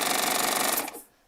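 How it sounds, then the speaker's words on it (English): A Baby Lock Triumph serger runs at speed with a rapid, even mechanical chatter, close and loud, then winds down and stops after about a second. "with this Triumph serger"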